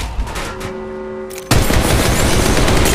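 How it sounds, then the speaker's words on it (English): Gunfire in the Apex Legends Mobile video game: a quiet, tonal stretch gives way to a sudden loud, dense burst of rapid shots that keeps going to the end. "Shots fired at me."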